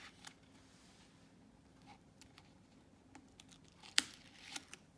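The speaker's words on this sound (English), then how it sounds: "I go ahead and lift this up and pull the other tape off" Tape is peeled off paper during papercraft with Lavinia stamps, producing faint, brief tearing and crinkling sounds with a sharper rip near the end, quiet and close, with no talk.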